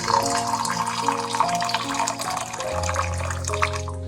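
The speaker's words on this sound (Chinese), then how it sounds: "下碗里加入50克红糖，再倒入300克开水。" Boiling water is poured into a bowl of brown sugar in a steady close stream, splashing and trickling for a few seconds with no speech over it.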